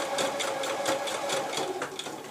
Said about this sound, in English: then I'll sew back across the top to meet up with my first stitch